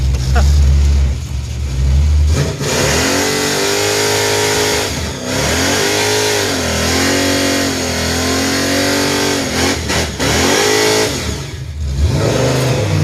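A big block Chevrolet Impala engine idles loudly and revs repeatedly, deep rumbling pulls rising and falling over several seconds, close to the car, with people talking briefly around it.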